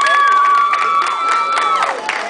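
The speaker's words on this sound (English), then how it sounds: "Give my ladies a round of applause again, Ron," A crowd at a pep rally cheers loudly with high whoops and shouts over scattered clapping, a dense continuous burst of excitement.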